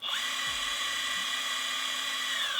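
A high-pitched belt-driven electric skateboard motor whines steadily with a thin mechanical buzz, close and continuous, no voices.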